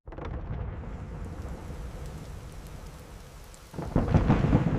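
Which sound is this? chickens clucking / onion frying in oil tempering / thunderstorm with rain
thunderstorm with rain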